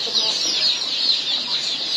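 A flock of chicks at a poultry market chirps in a dense, continuous high-pitched chorus, loud and close, with no pauses.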